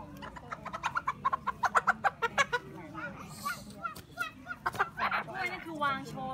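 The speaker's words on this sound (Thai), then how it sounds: "สะกดจิตไก่ให้หลับ" A chicken being hypnotized on a farm clucks in quick, close bursts, then squawks and gives more scattered clucks. Human voices come in between the calls.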